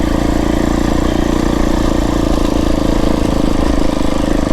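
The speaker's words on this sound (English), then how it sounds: "I'm in third gear right there, just chugging that" A Beta 350RR X-Pro dirt bike engine chugs steadily in third gear at low speed on a trail ride in the Santa Rita mountains, a loud, continuous low rumble with no break and no talking.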